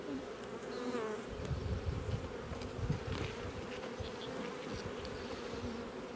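A honeybee colony in an open hive gives off a dense, continuous buzzing hum, close and steady, with individual bees droning past over the crowded swarm and light handling noises mixed in.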